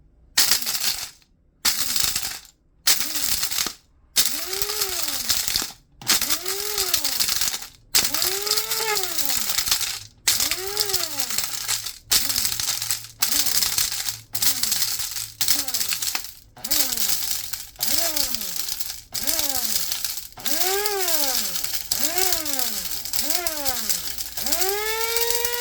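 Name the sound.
blender pulsing to grind dried garlic into powder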